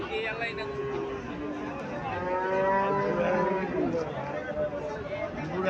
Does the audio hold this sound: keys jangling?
no